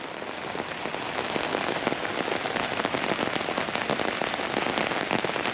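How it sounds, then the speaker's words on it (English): Steady rain pours down at the Palace of Fine Arts in San Francisco, with a dense patter of drops hitting surfaces close by, even and loud throughout. "Raining pretty good."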